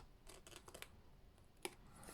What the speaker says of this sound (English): So now I'm just going to trim those 2 bare edges off.